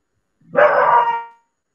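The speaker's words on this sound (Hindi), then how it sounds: "कुत्ता ना काट ले भाई" A single dog bark, loud and close, standing alone against a quiet background with no talking.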